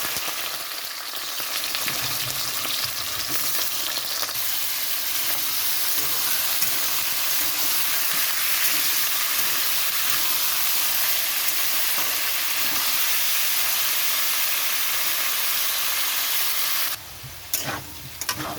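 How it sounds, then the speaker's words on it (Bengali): Vegetables frying in hot white oil in a wok, giving a loud, continuous close sizzle and hiss that runs steadily, with a brief stirring clatter near the end. "তো এখানে আমি সবজিগুলো ভাজার জন্য দিয়ে দিচ্ছি।"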